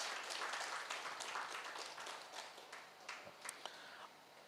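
An audience claps at an outdoor spiritual celebration event in Khammam, a dense burst of applause that gradually thins into scattered individual claps, fairly faint and distant.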